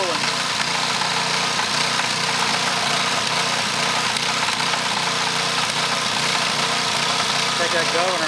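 A pro mod power washer engine runs hard in a driveway, a loud steady buzzing drone with constant vibration, close and unbroken throughout.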